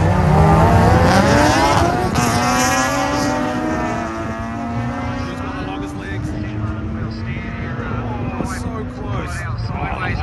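Loud, high-revving drift car engines, including a naturally aspirated 20B rotary RX-8 and a Honda VTEC, roar past with rising and falling pitch, a crowd and commentary mixed into the din.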